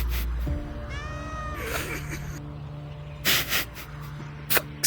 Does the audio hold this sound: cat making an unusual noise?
yes